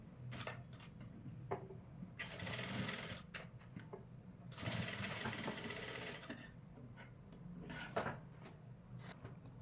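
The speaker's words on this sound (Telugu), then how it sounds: "ఇటువైపు అండ్ అటువైపు ఎలాస్టిక్ కలిపి స్టిచ్ వేసుకుంటాము" A sewing machine stitches elastic on a kids' jumpsuit in several quick whirring bursts separated by short pauses, close and fairly quiet. A faint steady high whine persists underneath.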